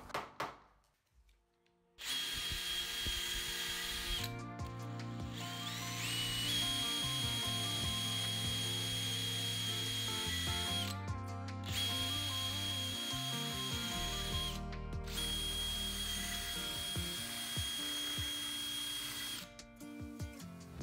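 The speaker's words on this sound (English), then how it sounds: "where you can then drill the opposite holes for the dowels to go" A power drill bores dowel holes in wood for a DIY mailbox post, running in several long, steady bursts with brief pauses between them, loud and close.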